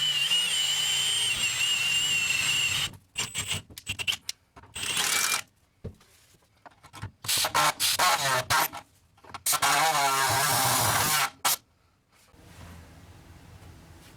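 Bursts of a loud, harsh pneumatic air saw cutting Honda CR-V body metal start and stop several times, with short quiet gaps between the runs.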